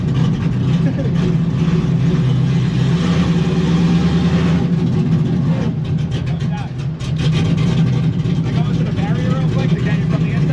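A Corvette drift car engine roars loud and continuous at high speed, a heavy low drone with a brief dip and rough burst midway, while people talk over it from inside the car.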